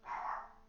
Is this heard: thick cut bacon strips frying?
no